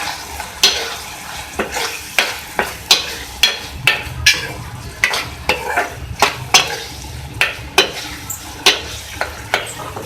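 Ground chili flakes, red chili powder and roasted coriander and cumin being stirred into chicken keema in a pan: regular close scraping strokes roughly twice a second over a soft sizzle, with no talking.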